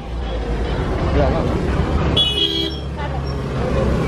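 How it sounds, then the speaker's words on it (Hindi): Heavy late-night road traffic near Baga Beach in Goa, a dense rumble of engines with a short car horn toot midway, close and busy, with someone talking over it. "गाइस, रात के 12 बजे और यहाँ पे इतना ज़्यादा ट्रैफिक है।"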